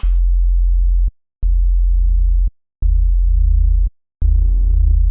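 A deep, steady sub-bass tone made in the Serum synthesizer plays in sustained notes, separated by brief silences, with faint higher overtones on the last note.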